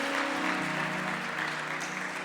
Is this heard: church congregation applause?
yes